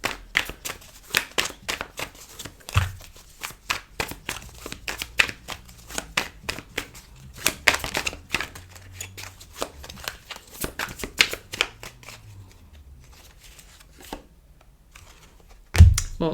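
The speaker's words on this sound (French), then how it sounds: "Je vais quand même prendre une carte en plus." Tarot cards shuffled by hand at close range, a long run of crisp riffling flicks and soft slaps, then a pause and a final card drawn with a sharper snap near the end.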